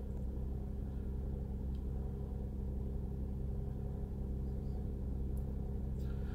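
A car engine idles in the cold as it warms toward 150 °F coolant temperature while still on high idle. It makes a steady low rumble with a faint hum, unbroken throughout, with no talking.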